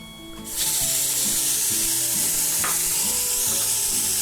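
Tomatoes go into a hot pan for kabsa and set off a sudden loud sizzle. The frying hiss then holds steady, with soft stirring scrapes underneath.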